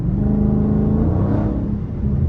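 A Dodge Charger Scat Pack engine hums close and steady while cruising a city street at night, a low rumbling tone with a faint whine layered over it and no talk.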